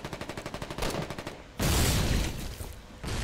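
Mortar firing from a half-track in Foxhole, a rapid train of rhythmic thumps followed by a heavy, sustained blast and another shot near the end, loud and close.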